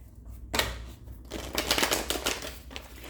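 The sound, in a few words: shuffling a deck of tarot cards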